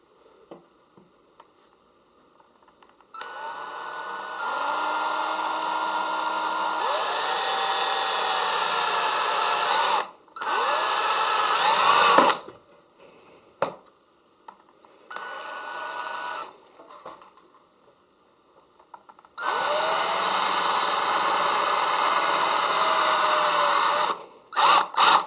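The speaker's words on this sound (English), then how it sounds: "I'm going to drill a hole with my number 29 drill bit all the way through." A power drill fitted with a number 29 bit bores a hole through copper, running in several loud whining bursts with pitch shifts as it loads up, separated by short pauses.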